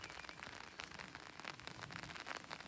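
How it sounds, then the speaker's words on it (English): Rain falling steadily outdoors on a rural property, a soft constant patter with scattered droplet hits, faint and even throughout with no talk. "obviously the rain is delaying my efforts a bit"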